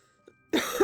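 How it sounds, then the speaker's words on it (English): A single rough cough bursts out after a near-silent lead-in, close and fairly loud, with a brief throaty tail at the end. "Don't worry, it's just a cough."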